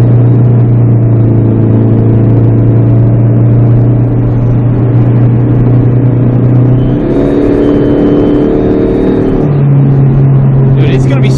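A tuned Chrysler PT Cruiser GT with a Mopar Stage 1 tune pulls hard under turbo boost, its loud, steady engine drone heard from inside the car, with two clear pitch steps as it shifts gears.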